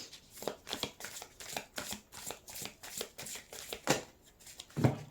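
Oracle cards are shuffled in quick rhythmic riffles, a steady run of papery bursts that ends with a couple of firmer slaps as cards are set down, close and alone without talk.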